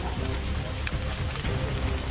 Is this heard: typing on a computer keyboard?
no